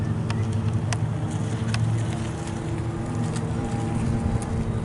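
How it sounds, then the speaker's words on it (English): Diesel locomotive engine notching up near CN shops during an afternoon of trains, a steady low rumble with a faint throttle-step hum rising over outdoor wind and distant ambience. "I can hear the engine notching up."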